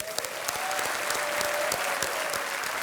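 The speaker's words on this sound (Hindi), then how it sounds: "एक बार फिर जोरदार तालियां।" Studio audience on the Hindi quiz show Kaun Banega Crorepati bursts into loud, dense applause that holds steady throughout, with a faint tonal hum running underneath.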